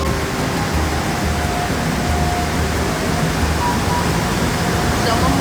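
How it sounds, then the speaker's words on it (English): A massive horseshoe-shaped waterfall dropping more than 240 feet roars in a steady, dense wash of broadband noise that fills the whole clip, loud and constant without a break. "we finally reached the massive horseshoe-shaped waterfall, dropping more than 240 feet. The sound is overwhelming."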